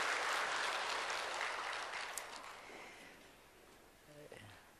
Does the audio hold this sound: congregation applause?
yes